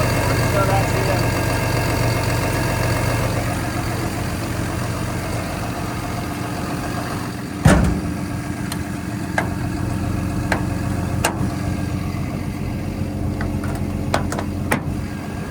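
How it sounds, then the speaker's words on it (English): A Cummins diesel idles on a 2022 XCMG XE300U excavator fitted with a hydraulic thumb. It holds a steady, close, low rumble throughout, with one sharp knock near the middle and a few light clicks later on. "These Cummins diesels are fantastic."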